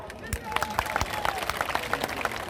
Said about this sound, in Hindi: इधर से ताली मारो।